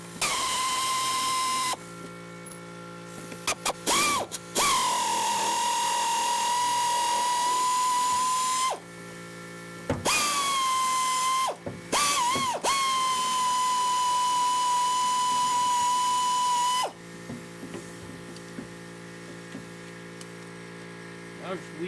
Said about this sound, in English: time to take the unibody bolts out on this side